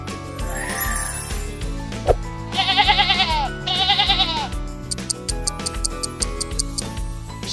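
A goat bleating twice in quick succession, each call a loud wavering vibrato lasting about a second, set against a light ticking rhythm and background music.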